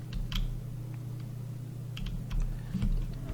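Sparse keystrokes tap on a computer keyboard over a steady low electrical hum, a few quiet clicks scattered across a few seconds.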